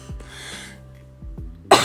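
Several short, harsh coughs from a person with a tickle in the throat, close and fairly loud, with quiet breathing between them and a sharper burst at the end.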